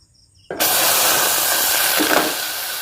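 Water poured into a hot pan during tea making hits with a sudden loud sizzling hiss that bursts in after near-silence and holds as a steady, close steam roar to the end.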